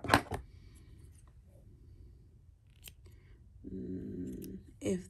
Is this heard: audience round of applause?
no